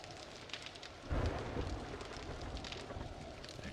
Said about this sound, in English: As soon as the storm is done